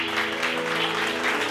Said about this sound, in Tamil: கைத்தட்டுங்க ஒருத்தர்.